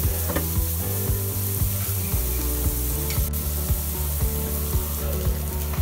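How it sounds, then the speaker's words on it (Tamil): Onion, carrot, beans and chillies sauté in a pan for rice noodle upma, giving a loud, continuous sizzle with a low mechanical hum and periodic ticking clicks underneath. "ஒரு 2லேருந்து 3 நிமிஷத்துக்கு நல்லா வதங்க விடுங்க."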